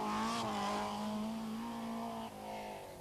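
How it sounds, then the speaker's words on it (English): James Cullen's rally car on a stage of the 1991 Circuit of Ireland Rally drones under hard power, a sustained engine tone that holds steady, then dips briefly before carrying on, loud and close with no speech. "James Cullen is really getting the power down now."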